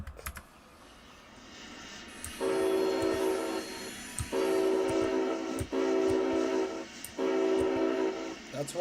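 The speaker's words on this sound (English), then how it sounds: "that's meant to be from the train" A train horn in a modded Minecraft survival game sounds in four sustained blasts with short gaps between, loud and tonal, with clicks of keyboard keys scattered beneath.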